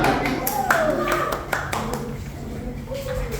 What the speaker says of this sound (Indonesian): Silakan kasih tepuk tangan dengan mulia